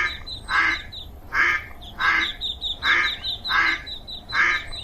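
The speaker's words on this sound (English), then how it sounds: "The little duck has problems." A duck near a park pond quacks in a steady series of six raspy, evenly spaced calls, close and clear, with a faint background of other bird chirps.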